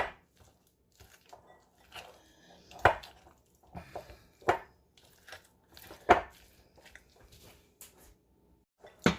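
Spinach dip ingredients with kosher salt, black pepper and red pepper flakes are stirred together in a bowl: quiet, irregular scraping and thudding strokes, some sharper knocks, heard close up with no talking.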